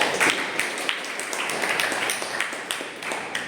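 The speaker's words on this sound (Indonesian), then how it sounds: "Silakan beri tepuk tangan dulu" An audience in a university teaching session claps together, a dense, steady patter of many hands at moderate loudness that holds for a few seconds.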